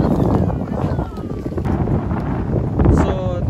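Strong wind buffets the microphone at a beach campsite in Calatagan, Batangas, a loud, continuous, gusty roar with some faint voices underneath.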